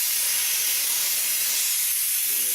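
A steady, loud hiss of blown air cools a hot dental piece, constant and broadband for the whole stretch with no breaks or voices.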